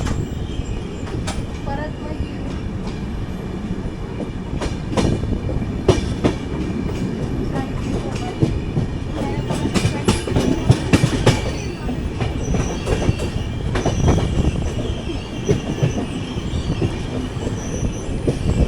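The Deccan Queen runs from Pune to Mumbai through the Monkey Hill ghat section, wheels clattering in a steady rhythm with sharp clicks and occasional squeals, loud and close, while a voice talks intermittently.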